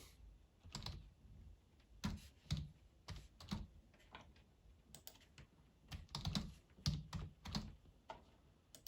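A password is typed on a computer keyboard for a Mac, producing quiet, close key clicks in short irregular bursts separated by brief pauses.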